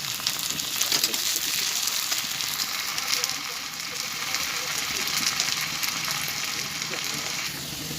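Ginger garlic paste sizzles hard in hot oil while a potato and fish curry is cooked, a continuous, close, crackling fry that holds steady for several seconds.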